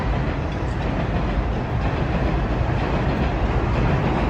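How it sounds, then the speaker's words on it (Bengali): A train rolls past right in front of a house in New York, a loud, close, continuous rumble of wheels and carriages filling the whole stretch without any voices. "আমাদের বাসের সামনে দিয়ে ট্রেন যাচ্ছে"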